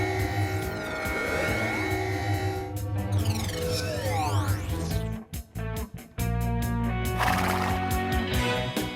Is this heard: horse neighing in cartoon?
yes